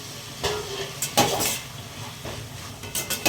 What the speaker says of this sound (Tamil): புதினா மல்லி போட்டுட்டு நல்லா கிண்டி விட வேண்டியதான்